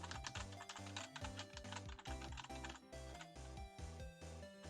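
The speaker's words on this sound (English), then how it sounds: "You could probably hear every single key press I was doing." Key presses on a computer keyboard patter rapidly and closely during play of Phoenix Wright, with dense tapping over loud, tonal game music.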